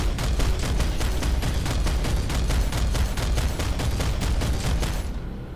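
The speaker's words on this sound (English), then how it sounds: "Yeah, looks like ground fire. Yeah, it's just, I think it's like infantry fire." Infantry gunfire in the Planetside 2 video game, a dense, loud, rapid automatic burst of shots repeating in an even rhythm for several seconds, close and unbroken, with no talk over it.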